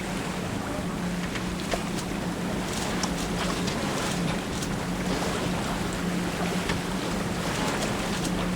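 A boat being towed across the choppy, open Alligator River, with a continuous low engine drone under broad wind and water rush that stays steady and close throughout.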